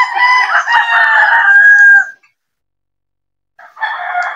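Young gamefowl stags at a gamefarm sale area crow loudly and close, one long crow filling the first two seconds, then a pause of silence before another crow starts near the end.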